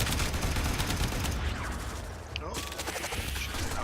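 Rapid, heavy gunfire from the video game Warframe during a Jupiter mission, with loud continuous bursts and overlapping shots over the game's busy battle mix. A player speaks over the shooting.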